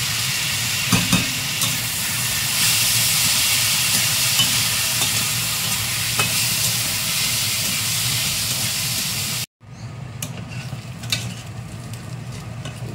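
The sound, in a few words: washed moong dal frying with asafoetida in a pan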